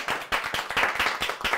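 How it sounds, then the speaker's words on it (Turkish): Clapping for the boss in a studio on a football talk show: a small group claps in quick, steady bursts, close and fairly quiet, with no talking. "Patrona moral alkışı."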